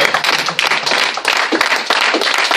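A church congregation at a prophetic gathering in Amiens claps loudly and steadily, dense rapid hand claps close by with a little cheering woven in.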